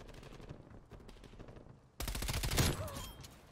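MP5 submachine gun firing in the Black Ops Cold War video game: quieter ticking shots at first, then a loud, rapid automatic burst of gunfire that peaks and fades out.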